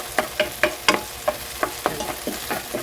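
Ingredients for Ilocano buridibud being sautéed in a pan: a spatula scrapes and taps in a quick, regular rhythm of about a dozen strokes over a low background sizzle, close and clear, with no talking.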